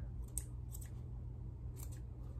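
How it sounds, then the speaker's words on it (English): Scissors snip loose threads off a handmade fabric face mask, giving three quick, close, crisp clicks over a low steady hum. "I just clip off all the thread"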